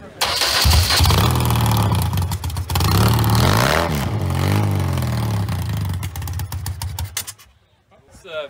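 A race-spec motorcycle engine at an outdoor motorcycle gathering revs loud and close, rising and falling through throttle blips before cutting off near the end, with people talking over it.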